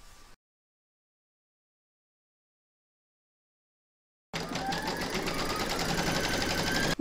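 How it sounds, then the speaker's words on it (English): After about four seconds of silence, a home embroidery machine hums in steadily with fast, even needle strokes, stitching the batting placement outline for an in-the-hoop stacked pumpkin. "pop your hoop into your machine and stitch round to number 1, and that's going to give you your batting placement outline"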